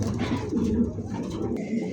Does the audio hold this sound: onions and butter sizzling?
no